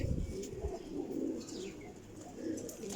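Soft, low coos from Ferozpuri Teddy pigeons repeat in a gentle rolling rhythm, fairly faint, with a few higher chirps and light background hiss.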